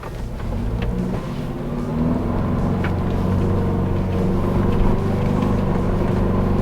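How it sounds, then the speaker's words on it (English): A 2022 Ford Bronco's 4-cylinder engine chugs in 4 low through muddy ruts with the rear diff locked, a steady low rumbling drone that swells as it works harder, heard from close by inside the vehicle with no talk. "Now it's chugging away. You can hear that 4-cylinder really working."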